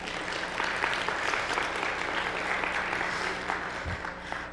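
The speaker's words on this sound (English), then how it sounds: "I think we should give her another round of applause." An audience at a Women of Promise afternoon session applauds a performer with steady, dense clapping that holds at an even level throughout, heard from within the crowd.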